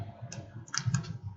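A few crisp keystrokes sound on a computer keyboard, close and brief, with a slightly louder final press.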